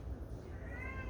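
A shelter kitten in a run shared with other kittens gives one brief, rising meow near the end over a low room hum.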